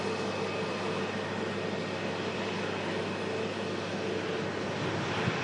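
An Airbus A321neo airliner taxiing, a steady, continuous broadband engine roar holding level throughout with no breaks.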